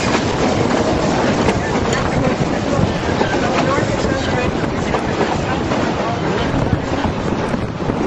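Cars of the 1930s-era Durango and Silverton steam railroad roll along the track in a loud, continuous rumble with rhythmic clacking and heavy wind buffeting, close to the microphone with no pause.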